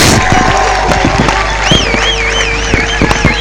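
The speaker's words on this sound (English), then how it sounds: "you are going to give a thunderous round of applause for the king of Upper Munya himself" A crowd greeting the king of Upper Munya at a royal gathering erupts in loud, close cheering and applause with sharp percussive bursts, while a shrill warbling whistle rises above the noise partway through.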